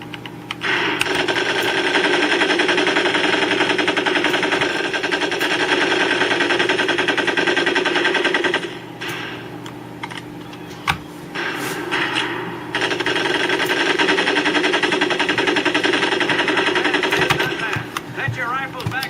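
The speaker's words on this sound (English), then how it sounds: "Take your time to aim and fire the weapon in short bursts only." Rapid automatic weapon fire at a Medal of Honor Pacific Assault boot camp range: a loud, sustained rattling burst, a brief break with scattered shots, then another long burst, with no talking.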